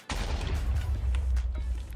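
A fully filled TNT block detonating in Minecraft, one loud booming explosion that bursts in suddenly and rumbles on heavily with crackling debris for a couple of seconds.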